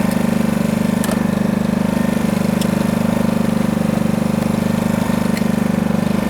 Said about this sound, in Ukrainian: Пробуємо включити кутову шліфмашину.